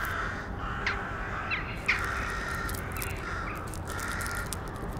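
Jackdaws, small members of the crow family, give several short, sharp calls at irregular intervals over a steady outdoor background hiss, moderately distant.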